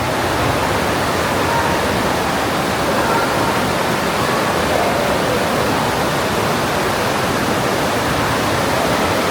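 Fast, cold glacier water rushes through the Partnach Gorge near Munich, a loud, steady broadband roar that fills the whole stretch without pause, with no voices.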